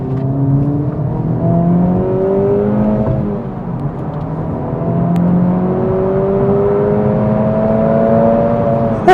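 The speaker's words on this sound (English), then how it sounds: "Still pulls surprisingly hard with this 2-liter turbocharged engine" A 2025 Acura Integra Type-S with a 2-liter turbocharged engine accelerating: a loud, close engine drone rising in pitch, a brief dip at a gear change, then climbing again, with no talking.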